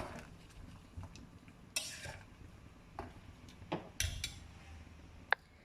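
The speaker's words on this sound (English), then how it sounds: "Give this a stir." A spoon stirring Indomie Soto instant noodle soup in a pot, quiet scattered clinks and taps against the metal over a low simmer, with a few sharper knocks, no talking.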